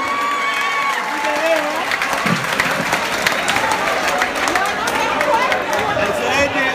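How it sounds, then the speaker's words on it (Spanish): A comedy-show audience applauds loudly and steadily throughout, dense clapping mixed with cheers and crowd chatter, filling the whole stretch without a break. "Aplauso para el desodorante."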